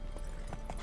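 Galloping horse hooves in The Witcher 3, a soft irregular clip-clop of a few hoofbeats over a steady low game rumble, moderately near and without speech.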